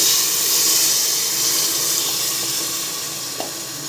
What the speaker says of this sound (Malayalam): ഒന്ന് വഴറ്റി സെറ്റാകുമ്പോൾ നമുക്ക് വെള്ളം ഒഴിച്ച് കൊടുക്കാം.